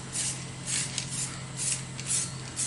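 An epoxy spray paint can being shaken, the mixing ball rattling in a steady repeated rhythm of bursts, close up and moderately loud, with no talk over it.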